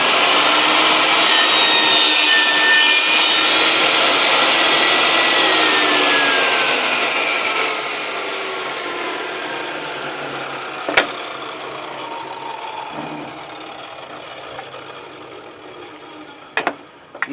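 Wooden block cut on a table saw with a crosscut sled for a wooden temple block, a loud steady sawing whine that holds for several seconds, then fades as the blade spins down, ending in a few sharp knocks.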